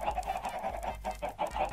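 A chicken in a video-game coop clucks in a quick run of short, nasal calls, fairly faint and alone, with a low hum underneath.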